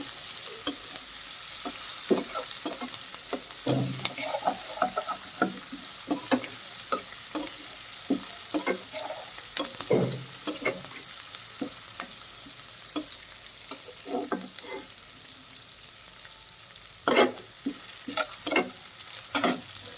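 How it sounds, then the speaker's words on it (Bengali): Sliced onion and green chilies frying lightly in oil in a pan, a soft continuous sizzle punctuated by frequent sharp spatula clicks and scrapes, close and moderately loud. "এখন পেঁয়াজটা হালকাভাবে একটু ভেজে নেব"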